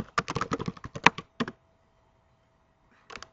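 Quick clicking keystrokes on a computer keyboard, a fast run of taps lasting about a second and a half, a pause, then a short final cluster of presses in a quiet room.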